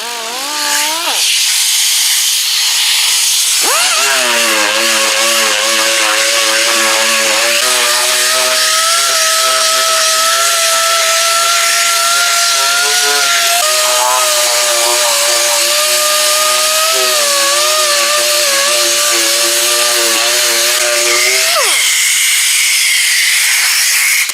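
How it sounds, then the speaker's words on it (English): Electric motor of a DA palm sander with 180 grit paper whining as it sands the painted body of an electric guitar, spinning up, running steadily with slight pitch shifts under a hissing abrasive rasp, then winding down. "palm sander, and I got 180 grit on there, and I'm going to go over the top and the back"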